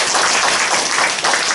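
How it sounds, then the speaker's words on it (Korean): Encouraging applause from a church seminar audience, a dense burst of steady clapping that fills the moment, loud and close, with no voices over it. "격려의 박수"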